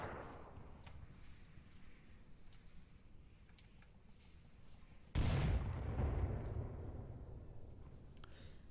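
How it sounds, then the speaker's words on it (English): Grenade blasts and gunfire from the VR shooter Onward during a competitive league match: a steady crackle of distant fire, then a sudden loud explosion at about five seconds with a booming rumble that slowly fades. "lot of nades going out"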